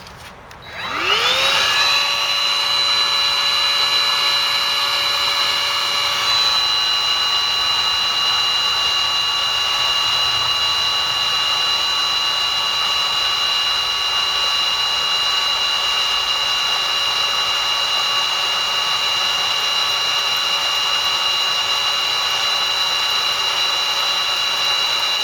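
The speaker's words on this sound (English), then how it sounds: "So now we're going to drill the holes." A power drill whines up at the start and runs steadily at a high, even pitch while drilling holes in a Honda CR-Z car body, loud and close, with no talking.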